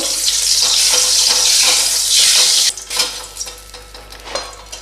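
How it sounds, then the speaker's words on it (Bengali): Loud, close sizzling of chopped garlic dropped into hot oil, dying down after a few seconds into softer crackling and stirring. "এবার এর মধ্যে রসুন ফোড়ন দেব।"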